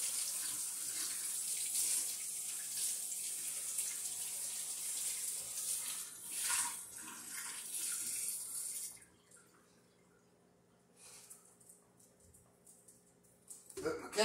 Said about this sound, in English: I'm going to rinse it off with hot water.